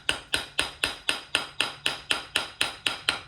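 A steel hammer taps a flathead screwdriver wedged under the fork cap notch on a Harley-Davidson Dyna front fork: about a dozen sharp, evenly spaced metallic strikes, close and fairly loud, with no talking.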